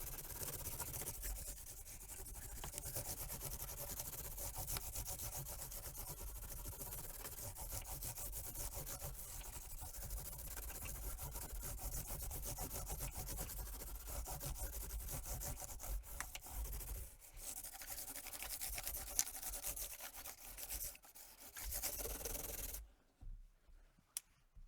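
Fine 1200-grit sandpaper rubbed by hand over the finish of a cracked Washburn guitar, a steady, close scratchy rasp with even strokes continuing for most of the stretch before stopping near the end, with no talking.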